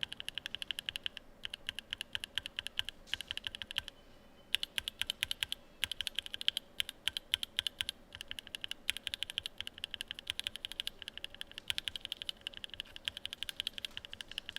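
Rapid clacky keystrokes on a mechanical keyboard, first with unlubricated switches and then with lubed ones, typed steadily and fairly close, with a brief pause in the middle and no voices.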